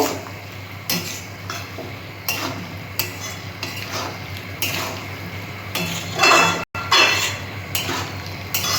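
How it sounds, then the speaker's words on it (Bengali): A spoon scrapes and clinks against a metal pan as banana flower ghonto is sautéed and stirred, in repeated close strokes over a low background hum. "এবার আমি একটু ভালো করে কষিয়ে নেব।"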